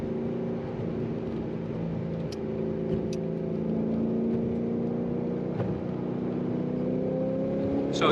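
A 2006 Ford GT sports car accelerates hard in third gear on the Autobahn, its engine note climbing steadily and loud from inside the cabin for the whole stretch, with no talk.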